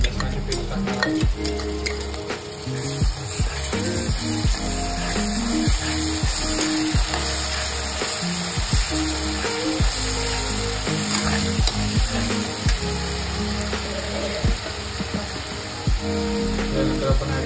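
Continuous loud sizzling of green chilli, ginger and garlic paste frying with browned onion for aloo palak sabji, with frequent clicking scrapes of a spoon stirring against the pan throughout.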